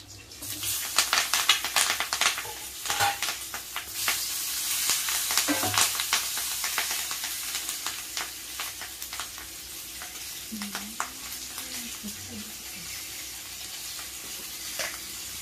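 Slit green chillies fry in a pan with loud bursts of sizzling and crackling, stirred now and then. The sizzle settles into a steadier, softer hiss toward the end.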